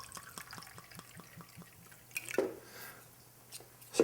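Gosling's Black Seal dark rum poured for a Hurricane cocktail, a faint close liquid trickle with small drip-like ticks, quiet and brief, ending in a few louder splashy clinks.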